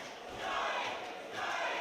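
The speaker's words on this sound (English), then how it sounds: "Hometown hero Scott, you can hear the crowd behind him here." Crowd at a boxing event roaring and cheering for hometown fighter Scott Inch, a steady, dense wash of voices that swells in two waves, loud and close without distinct speech.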